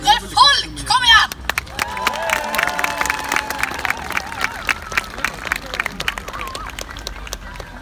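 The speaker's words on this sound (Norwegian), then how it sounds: "Så nå måtte vi gi like mye applaus som det dere er folk!" Audience applause at a Dansens dag dance event in Bergen rises after a loud announcer's voice, then continues as a steady clatter of clapping with crowd murmur beneath a music track.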